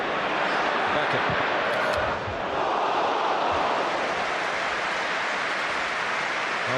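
A huge stadium crowd at the 1999 FA Cup final between Manchester United and Newcastle United roars and cheers in a dense, continuous wall of noise, with broadcast commentary speech faintly beneath.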